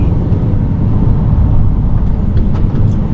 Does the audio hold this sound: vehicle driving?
yes